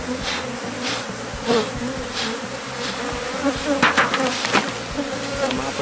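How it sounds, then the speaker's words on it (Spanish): Honeybees from an overcrowded hive swarm close by in a dense, steady buzz that swells and dips as individual insects pass near, with faint knocks of hive handling underneath. "Vamos a tratar de sacar abejitas."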